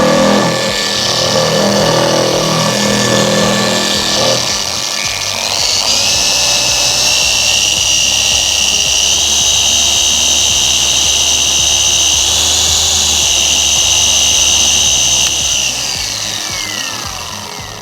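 A Lake Country Pad Washer System 4000 runs with a loud, steady, high-pitched mechanical whine and a rushing, grinding hiss while it cleans a polishing pad clogged with 2K paint. The whine holds nearly constant throughout.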